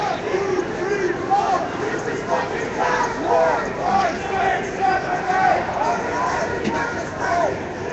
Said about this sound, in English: Crowd is very loud, very intense right now.